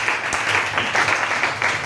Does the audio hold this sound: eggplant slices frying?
no